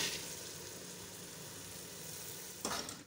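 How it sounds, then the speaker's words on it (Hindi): Urad (mash) dal sizzling in fried masala with ginger and green chilies over high heat, a steady close crackle with stirring and a brief louder scrape of the spoon near the end. "अब हम इसको अच्छी तरह माश की दाल को तेज़ आंच पे भूनेंगे।"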